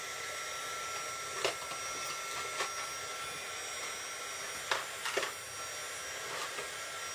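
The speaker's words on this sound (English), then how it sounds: "I'm just warming up my heat gun." A heat gun warming up for heat embossing, a steady loud electric blower whoosh running unbroken throughout with a few faint clicks and taps over it.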